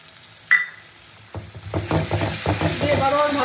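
Tomato paste with cumin powder and other spices fries for a malai prawn curry. After a quiet start and a single clink, a loud sizzle erupts and keeps crackling under repeated stirring strokes.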